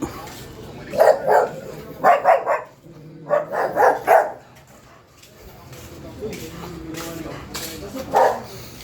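Dogs bark repeatedly in short clustered bursts, fairly close, with a last bark after a lull, over a constant low background hum.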